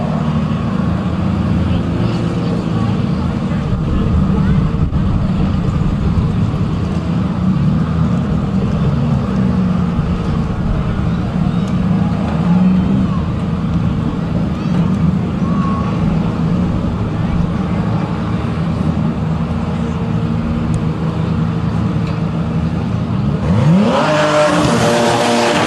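Drag race cars, including Kevin Stowe's and David Roschneider's, roaring down the strip at a DCT World Cup qualifying day, a loud sustained engine blare that holds for most of the pass before cutting off near the end.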